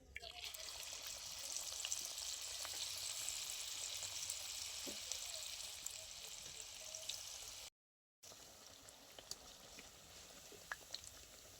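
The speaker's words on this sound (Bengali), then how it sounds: "এবারে আমি একই রকম ভাবে সব কটা পকোড়া ভেজে নেব।" Cabbage pakoras coated in cornflour batter deep-frying in hot oil, a steady broad hiss and crackle that runs on, breaks off briefly, then resumes a little softer with occasional small pops.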